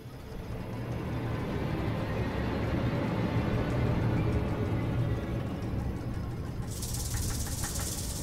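Snakes in a Gorgon's hair hiss in a dense, steady rush that holds for several seconds at a moderate level, with a sharper, brighter hissing burst near the end and no voices.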